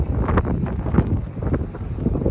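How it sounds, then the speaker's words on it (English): Steady low rumbling buffets of wind hitting an iPhone 13 Pro Max microphone outdoors, continuous and loud, with no voices. "it's actually a little windy out here, so I don't know if you can hear me"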